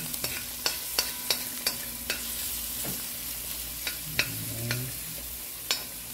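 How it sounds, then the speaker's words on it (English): Garlic and onion fry in a pan with pimentos, a steady bright sizzle with regular light taps of a spoon stirring, no voices. "allow it to fry up for a bit okay so this combination of garlic and onion and pimentos"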